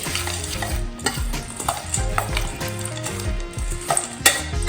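Masala puffed rice with squeezed lemon is tossed and mixed in a bowl, a steady near rustling crunch with repeated scraping strokes and a few knocks, with no voices.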